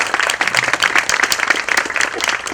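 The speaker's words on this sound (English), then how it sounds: "So give yourself a round of applause for that" A crowd at a Juneteenth flag raising in the Melrose community applauds, with loud, close clapping from a sizable group rising and falling in uneven waves and no talk over it.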